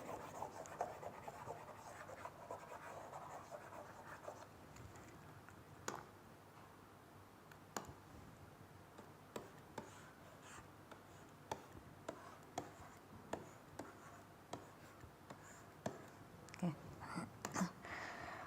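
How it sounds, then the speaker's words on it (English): Marker or chalk scratching and tapping on a board during a university lecture on queueing theory, a quiet run of short strokes and taps with occasional sharper clicks, no talking. "let me actually draw this thing again here"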